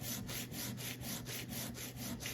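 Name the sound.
lapping screwdriver bit on 220 grit sandpaper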